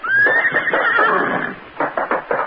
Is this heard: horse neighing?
yes